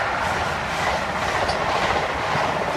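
High Speed Train power cars 43296 and 43319 on a Virgin Edinburgh service rumble past platform one at Grantham station steadily with a broad rushing roar and faint rhythmic wheel clatter, continuous and fairly loud throughout.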